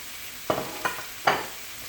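Shrimp dropped into a hot frying pan on a low stove, producing three quick sizzling bursts in a row, close and fairly loud, with a quiet hiss between them.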